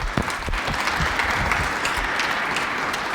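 A lecture-hall audience applauds to welcome Director Jemison, the speaker on a Detroit housing strategy, with loud, dense, steady clapping lasting the whole moment and no talk over it.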